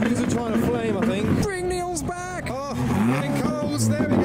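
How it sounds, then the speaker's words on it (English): Modified Subaru cars revving their engines together at a small car meet, rising and falling engine notes sweeping up and down under loud, overlapping talk and shouting from people nearby. "the Subarus that we drove with are still revving together"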